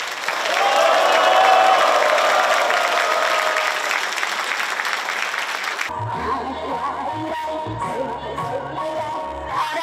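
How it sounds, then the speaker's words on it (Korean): An audience at the launch ceremony for the Kim Dae-jung centennial commemoration applauds loudly and steadily for about six seconds, then the clapping gives way to someone speaking with faint crowd noise. "오늘 이 위대한 시간을 이 자리에 참석한 우리 모두의 박수와 함성으로 함께 열어주시기 바랍니다."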